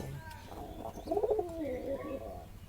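Racing and mukhi pigeons give soft, nearby throaty cooing in a short rolling phrase, faint and otherwise quiet, with no one speaking.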